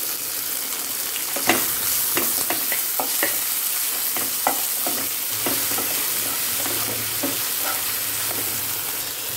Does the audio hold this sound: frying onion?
yes